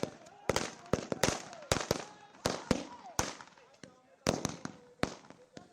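A rapid string of sharp firecracker bangs at a village celebration, loud and irregular, popping one after another with brief gaps.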